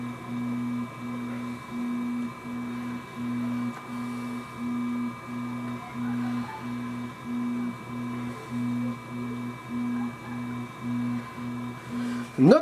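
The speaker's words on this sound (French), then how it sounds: "Je confirme, l'imprimante est plutôt silencieuse." A Flashforge Adventurer 3 3D printer at work, quiet overall, with stepper motors humming in a regular pulsing rhythm of short tonal bursts, close and steady, with a small click at the end.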